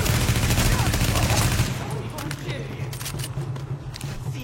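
Dense bursts of rapid gunfire in The Division, loud and continuous for the first second and a half, then thinning to scattered distant shots over a low rumble.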